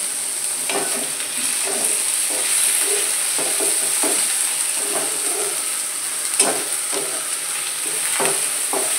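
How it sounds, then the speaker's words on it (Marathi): Onion, curry leaves and tomato sautéing in a pan for soybean bhurji, a loud constant sizzle with scattered spatula scrapes and stirs. "कांदा चांगला परतून घ्यायचा, कढीपत्ता, टोमॅटो टाकून घ्यायचा"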